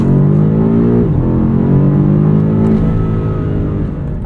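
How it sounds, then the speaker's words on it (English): A 2022 BMW M5 CS drives under load, its exhaust a loud, close, smooth drone that rises in pitch with acceleration, shifts around the one-second mark, then climbs steadily again with few pops or burbles. "The exhaust sounds pretty different from the standard M5 competition."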